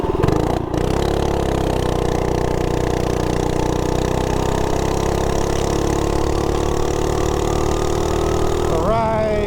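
A Harley-Davidson Softail motorcycle engine drones steadily at cruising speed, a loud, even low rumble throughout, with a brief clunk near the start and a short rising whine at the end.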